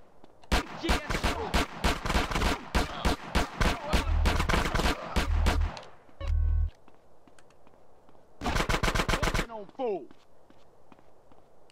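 Heavy gunfire from big weapons in GTA San Andreas during a gang war, loud rapid bursts of shots across several seconds with pauses, a later short volley, and faint talk in between.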